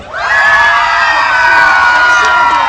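A large group of first graders at an elementary school assembly screams at full volume, one loud, continuous, high-pitched roar of children's voices from start to finish.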